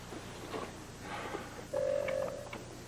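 Faint background sounds give way to a steady electronic tone of a phone being dialed, with a couple of brief higher beeps after it.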